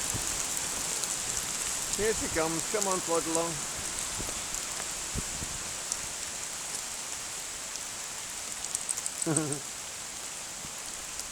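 Heavy rain pours outdoors on a wet walk at Lamlash with a dog named Sally, a steady dense hiss filling the whole clip while a voice talks briefly near the start and again near the end.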